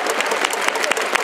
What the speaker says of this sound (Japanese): 手拍子もっと大きく、もっと大きくお願いします。